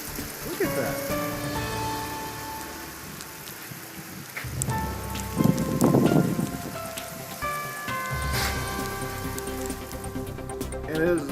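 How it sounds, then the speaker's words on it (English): Hail turning to sideways wind-driven snow during a snowstorm in Akron, Ohio, heard as a steady pattering wash of precipitation on surfaces with gusty rustling swells, while people talk over it. "And it is officially snowing sideways, and wow. Well, it seems like it was hail at first,"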